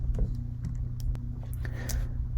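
A computer keyboard tapped while entering commands during a matrix operations lesson: a few sparse, light clicks over a steady low hum.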